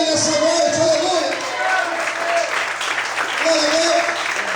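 A church congregation applauds through an evening service, a dense wash of clapping and cheering with a voice held over it, swelling at the start and end and dipping briefly in the middle.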